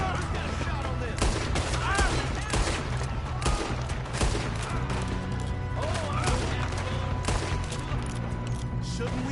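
Dense, continuous gunfire from the Red Dead Redemption video game: rapid rifle and pistol shots overlapping into a loud, steady fusillade, with voices under it.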